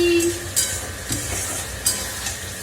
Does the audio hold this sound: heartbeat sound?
no